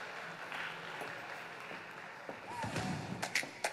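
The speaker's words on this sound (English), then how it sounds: "Please, another round of applause for her." Moderate applause from a tech summit audience as a speaker walks up to the stage, a steady spread of clapping with a few thumps and footsteps near the end.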